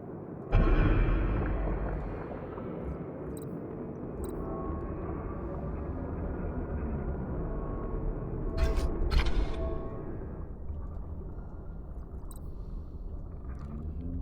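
Low steady mechanical hum of a tidal turbine in the underwater colony-building game Aquatico, droning continuously at moderate level with a few faint clicks and chimes on top.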